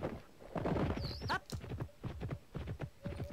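Horse hooves clip-clop at a steady walk in the video game Pippa Funnell Ranch Rescue, light hollow knocks repeating under a brief whinny, fairly close and distinct.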